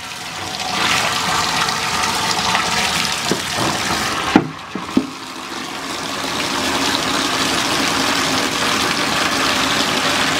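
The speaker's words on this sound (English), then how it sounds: "I just fill up that tub with a nice warm water" Warm water gushes steadily from a shower into a baby bathtub, a loud continuous rushing fill with a couple of brief knocks midway and no talking.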